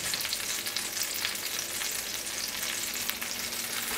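Potatoes frying in a pan, a dense, even sizzle that stays close and constant from start to finish with no voices.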